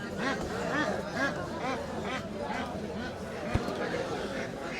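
Native drakes at a rural village market (hat) in Jamalpur, quacking repeatedly amid the busy chatter of a crowd, with people talking close by throughout.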